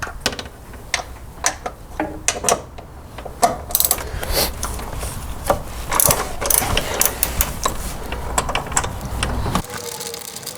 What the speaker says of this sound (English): We're now going to remove the 12mm bolt holding the clutch line support